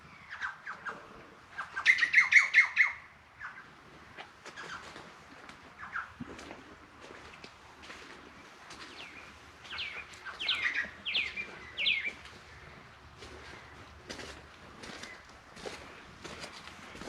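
Birds chirp and squawk outdoors in a cactus garden, with a loud, close flurry of calls early on and then scattered chirps and tweets at moderate distance. Faint footsteps are heard in between.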